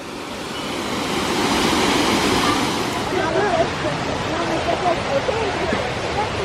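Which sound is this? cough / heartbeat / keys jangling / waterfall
waterfall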